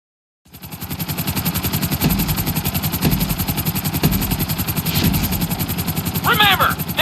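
Helicopter in the video game GTA San Andreas during a pilot license test, a loud continuous rotor chop with rapid rhythmic beating throughout and a brief higher whine near the end.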